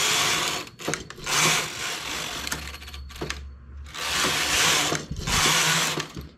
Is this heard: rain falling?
no